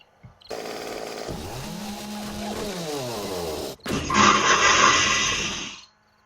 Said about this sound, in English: chainsaw's just handy